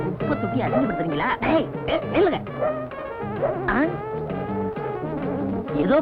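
A big dog barks repeatedly in loud, rough, rapid bursts, close by and continuous for several seconds, with people talking over it in a comedy scene.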